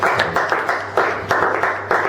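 An audience claps in a steady rhythmic beat, roughly four claps a second, moderately loud and close, over a faint low hum, with no speech.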